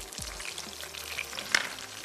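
Onions and tomatoes fry in a pot with a soft, low sizzle. A quiet spoon scrape and a brief knock come near the end.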